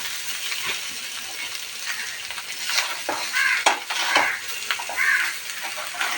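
Bangda mackerel fillets fry in a hot pan with a steady close sizzle, broken by light scrapes and clinks of a utensil against the pan.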